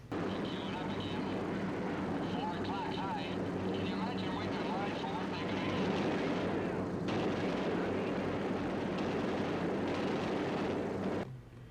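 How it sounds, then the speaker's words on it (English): B-17 gunners fire machine guns in the IL-2 1946 flight game, rattling bursts over a constant droning engine hum, with a voice talking over parts of it. "See the gunners opening up there."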